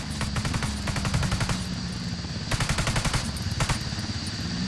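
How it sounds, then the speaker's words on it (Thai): Rapid automatic gunfire bursts in Ghost Recon Wildlands during a convoy fight, several quick volleys over a steady engine-like drone, loud and close. "ทำไมเสียงปืนมันแปลกๆวะ"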